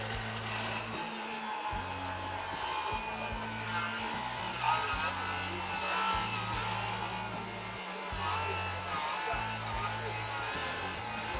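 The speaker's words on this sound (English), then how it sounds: "So it's just eating right through those fasteners, right?" A power saw fitted with a Diablo Demo Demon blade cuts through wood and embedded metal fasteners, a steady loud grinding whine that holds for several seconds with brief dips in pitch as the blade meets the metal.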